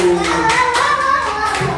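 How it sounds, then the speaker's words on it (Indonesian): Students clap for a classmate group during a classroom civics lesson. Brisk, close clapping runs for under two seconds, blended with children's voices. "Tepuk tangan buat kelompok 1."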